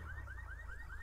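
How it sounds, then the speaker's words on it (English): Car alarm sounding in GTA V with LSPDFR, a repeating rising electronic whoop cycling about five times in quick succession, faint and steady with no talk. "looks like that car, the alarm's going off"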